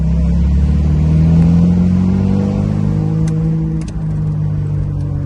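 A 1960s Datsun Fairlady engine revs up and holds a loud, rumbling idle close by, pitch rising and easing as the throttle is worked, with a few faint clicks and no talking.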